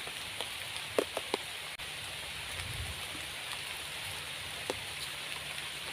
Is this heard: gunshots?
no